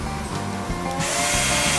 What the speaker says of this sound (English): using this self-centering drill bit, drill the holes in here